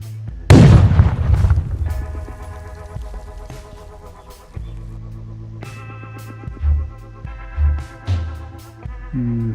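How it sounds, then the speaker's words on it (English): A flashbang grenade goes off in the tactical shooter Ground Branch: one loud, close, booming blast with a long decaying rumble, followed by game music and a few softer low thuds, with no talking. "Flashbang."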